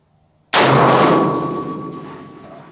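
A single loud FN SCAR 20S rifle shot fired at a long-range hanging torso target on an open range, a sharp crack followed by a long rolling echo that slowly fades.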